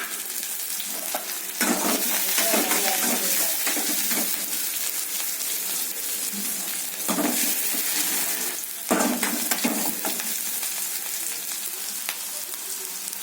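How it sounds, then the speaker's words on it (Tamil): Shallots, green chillies, curry leaves and urad dal fry in oil in a pan, giving a loud, continuous sizzle. Repeated stirring scrapes surge over it, with a brief lull in between. "இப்போ வெங்காயம் வதங்கிட்டு"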